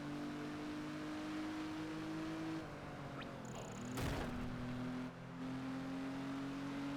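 Steady engine drone of race cars, a Jaguar XJ and a Ferrari, in Project Gotham Racing 4, holding a sustained tone that dips and shifts midway with a brief burst before settling back into a continuous hum.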